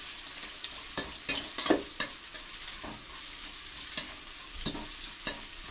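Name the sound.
bitter gourd frying in a pan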